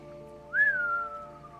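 A single short whistled note rises and then slowly fades, heard over steady background tones in the video game The Legend of Heroes: Trails of Cold Steel IV.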